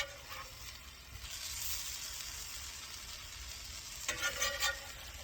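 Smash burgers topped with cheese cook on a flat griddle, giving off a continuous moderate sizzle, with a brief burst of scraping and clatter near the end.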